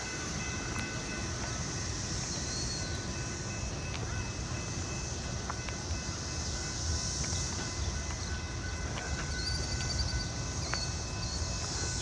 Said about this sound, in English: It's the first passenger train I've seen on this track